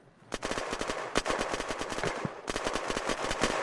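Rapid automatic gunfire in the video game Unturned rattles in dense bursts of close, sharp shots, with a brief break midway before the firing resumes.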